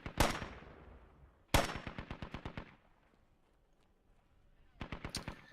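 Heavy automatic gunfire in the tactical shooter game Squad: two long rapid bursts of machine-gun fire, loud and close, a quieter gap, then a third burst near the end, with no talking.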